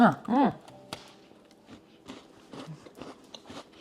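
Butter cookies are bitten and chewed close up, with an opening loud crunchy bite and softer chewing and crunching after it; a voice is briefly heard.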